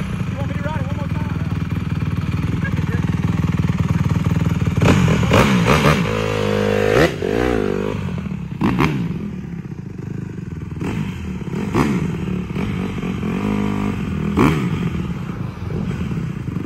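A 2016 Honda CRF150R dirt bike runs nearby with a steady engine drone, punctuated by several sharp revs and clattering bursts as it is ridden, while people talk over it.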